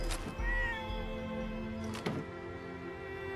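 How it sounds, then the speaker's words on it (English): A cat meows a couple of times in the video game Fallout 76, over a quiet ambient music bed, with a soft thump between the calls. "I hear a cat."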